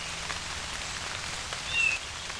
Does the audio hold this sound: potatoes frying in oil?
no